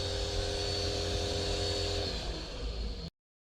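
A budget StarQ high pressure washer runs while spraying shampoo, a steady loud motor drone with a whining tone that holds for about three seconds and then cuts off abruptly into silence.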